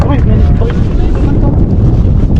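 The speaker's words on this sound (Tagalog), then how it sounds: "medyo malakas na yung hangin" Loud, blustery wind buffeting the microphone with a constant low rumble, with voices faintly audible beneath the roar.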